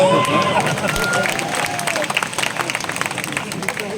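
An audience at a Hindi poetry recital applauds, a loud burst of clapping that continues with scattered claps and crowd murmur.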